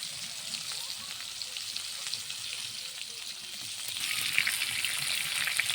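Fresh fish shallow-frying in a pan gives a steady, close sizzle that keeps going without a break and grows a little louder and brighter toward the end, with no talking.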